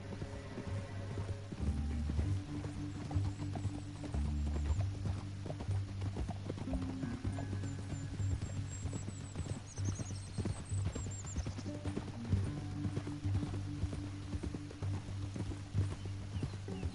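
Horses gallop with rapid, steady clip-clop hoofbeats across a canyon in the Red Dead Redemption western video game, joined by a brief whinny and a continuous game score underneath.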